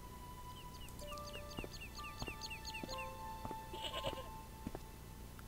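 A goat in the Broken Sword (Baphomets Fluch) video game, tethered by a rope tangled in an old plough, gives short bleats amid a game soundscape of chirping birds and faint background tones; no one speaks.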